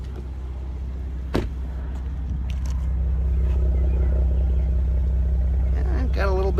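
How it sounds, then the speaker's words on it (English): A 2017 Porsche Macan GTS idles with its sport exhaust button engaged, a steady low rumble that grows slightly louder and fuller partway through, with a brief click and some faint voice near the end. "exhaust button, if it makes a different sound that we can detect while idling."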